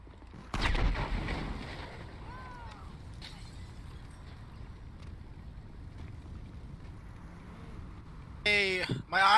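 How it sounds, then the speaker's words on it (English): Gunfire from a player shooting enemies in a video game: a dense burst of shots near the start, then a quieter stretch of low background ambience, with a brief voice at the very end. "That's me shooting them."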